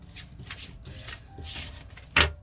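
Oracle cards being shuffled by hand, a soft continuous papery rubbing and riffling that ends in one louder snap of the deck, close and fairly quiet with no talking.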